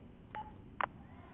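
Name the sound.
phone dialing call in video game GTA V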